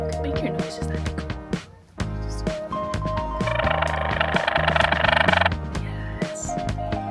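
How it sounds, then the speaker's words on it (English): Bullfrogs croaking in the Hualapai Mountains, a dense chorus of deep, rhythmic croaks and creaky calls close by, with a voice speaking over them. "Do your big bullfrog noise."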